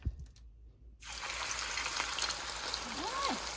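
Chicken drops into hot oil and a loud, steady frying sizzle erupts after a moment of quiet, a dense crackling hiss that continues close up with faint background voices.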